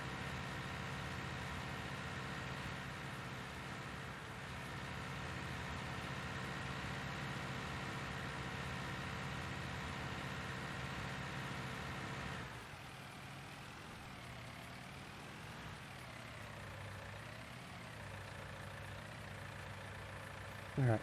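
A tractor engine idles steadily in the Farming Simulator 19 video game as a low, continuous drone, its tone shifting and wavering slightly partway through, with no talk over it.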